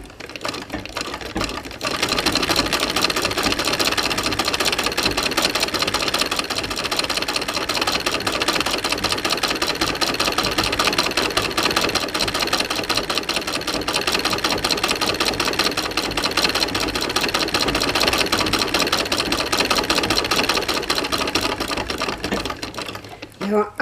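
A treadle sewing machine winds a bobbin with a steady, loud, rapid mechanical whirring and clatter that runs on without a break for the whole stretch.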